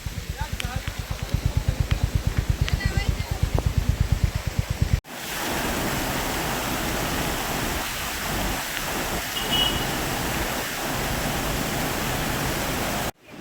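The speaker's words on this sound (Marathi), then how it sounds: "आपण आलेलो आहे राऊतवाडीच्या धबधब्यावर" Rautwadi waterfall near Radhanagari, Kolhapur, rushes in heavy monsoon rain. After a few seconds of rhythmic low thumping, a loud, dense, steady roar of falling water and rain fills the rest.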